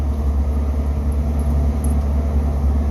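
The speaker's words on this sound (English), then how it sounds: "driving this thing on urban streets, going over speed bumps, is not the Pinzgauer's forte" A Pinzgauer six-wheel-drive vehicle rolling through urban streets gives off a steady, low, rumbling engine and road drone, unbroken and fairly close, with no talk over it.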